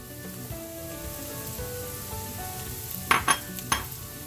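Mushrooms tumble into a frying pan of browned peppers, a steady sizzle throughout, then a few sharp stirring clatters and louder bursts of frying near the end.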